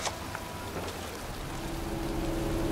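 Rain falls steadily over a cemetery in the video game Heavy Rain, a continuous dense hiss of drops on surfaces, with faint occasional ticks and a low hum underneath.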